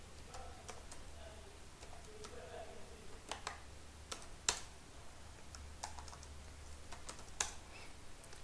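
Keys on a computer keyboard tapped in short irregular bursts while a command is typed, crisp close clicks with brief pauses between, over a low steady hum.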